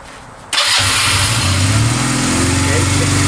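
Carbureted motorcycle with the choke pulled out, electric starter cranking briefly before the engine catches and settles into a loud, steady idle up close.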